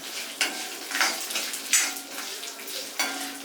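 Dried red chillies crackle in hot oil with curry leaves, a busy sizzle broken by several sharp spattering bursts and occasional stirring scrapes.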